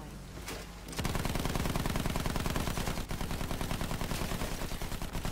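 Rapid machine-gun fire aimed at an aircraft in Battlefield 1, a loud continuous rattling burst that runs without pause, with a brief quieter lead-in before it starts.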